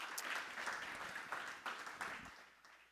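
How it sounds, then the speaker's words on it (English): Audience applause at a disability tech meetup held at Civic Hall in New York, a soft, moderately distant patter of many hands clapping that gradually fades out. "a big round of applause for all the demoers tonight"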